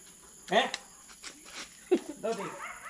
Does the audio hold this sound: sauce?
no